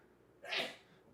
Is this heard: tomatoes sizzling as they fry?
no